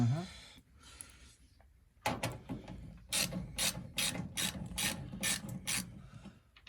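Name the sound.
ratchet from a socket set working on a Zanussi TD200 dryer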